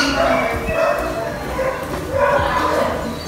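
Pet dogs yip and whimper excitedly during feeding at home, with a couple of bursts of eager, close barking under light background noise.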